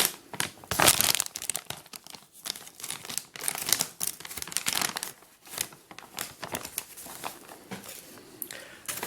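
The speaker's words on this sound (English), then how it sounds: "I found an easy way of just getting the soil into a pot is to just use a folded up piece of card like this" Potting soil spilling off a folded piece of card into a plant pot while repotting an Echeveria succulent, a close, crinkly rustle of card and scattering grains in uneven bursts, with no talking.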